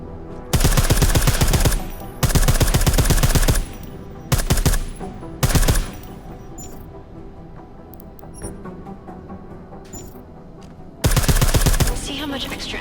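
Bursts of suppressed automatic gunfire in Deus Ex: Mankind Divided, several rapid volleys of about a second or more each, separated by quieter gaps with faint game ambience.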